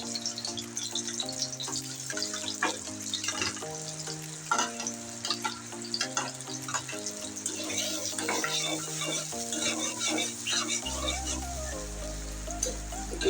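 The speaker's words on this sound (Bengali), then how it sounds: "পেঁয়াজ আর কাঁচামরিচটা আমি ভালো করে তেলের সাথে ভেজে নিই" Onions and chopped green chillies sizzle and fry in hot oil in a kadai, with steady crackling over a loud musical backing that runs throughout.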